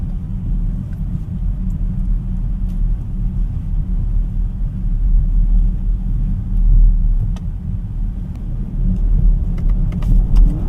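A 2025 BMW X5 xDrive50e M Sport hybrid with a 3-liter inline-6 turbo engine being driven, a steady low cabin rumble of engine and road noise that swells slightly at times.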